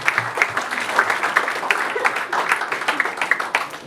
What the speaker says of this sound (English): a clap, a round of applause to the fathers